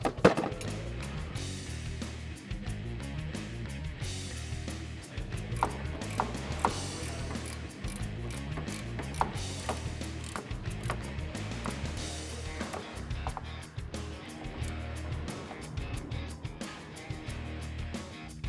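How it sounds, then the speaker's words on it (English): Wrenches tighten the adjustable sway bar end links and jam nuts under a 2005-2014 Mustang GT fitted with a coilover kit, producing rapid repeated ratchet clicks in bursts with short pauses, close and steady across the whole stretch. "we're going to be tightening up our end links, and then we're going to tighten up our jam nut"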